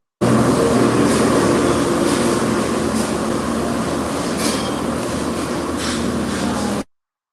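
A subway train roars steadily and loudly underground, a dense rumbling rush with faint wheel squeal, heard as heavy static over a phone call and cutting off abruptly.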